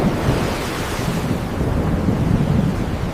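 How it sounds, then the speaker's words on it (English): Stormy sea at night with a fleet of rowing ships driven apart, a loud continuous roar of wind and surging waves, low rumbling turbulence throughout with no voices. "Driven apart by wind and waves, the fleet disappeared into rain and darkness."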